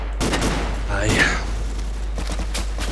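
Gunshots in the blocky multiplayer shooter Ace of Spades crack in scattered bursts, some sharp and some distant, mixed with voices chatting over a steady low hum.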